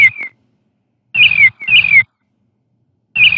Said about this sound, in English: I should be able to choose Play Sound Dance Magic until done